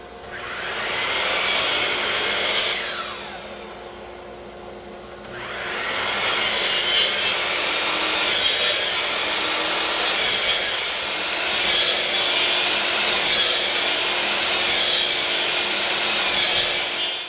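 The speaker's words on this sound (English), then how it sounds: "to make sure that I don't cut all the way through the piece of plywood" A saw cuts a series of kerfs partway into plywood against a depth stop, giving a loud, continuous rasping whine that pauses briefly and then resumes with a rhythmic back-and-forth pulse, with no voices.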